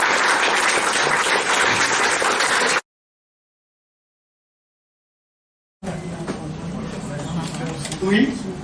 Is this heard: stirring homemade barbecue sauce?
no